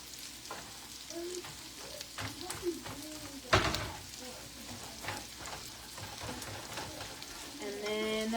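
Onions sizzling and frying in a pot for red vegetable soup, stirred with scraping and clattering strokes, a sharp knock midway, steady close crackle throughout.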